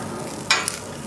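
Shallots sizzling on a grill alongside vegetables, a soft steady hiss with one brief louder crackle, close and quiet, no voices.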